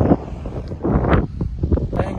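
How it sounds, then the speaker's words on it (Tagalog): Strong outdoor wind buffeting the microphone in loud, uneven gusts during a macaw's free flight session, with muffled rumbles and brief quieter lulls. "Ayan, napakalakas ng hangin."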